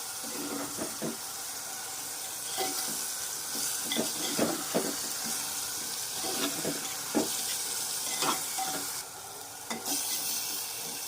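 Turmeric frying in a pan with drumstick vegetable pods: a steady sizzle runs throughout with scattered scraping stirs and soft clinks of a spoon against the pan, close and moderately loud, with no voices.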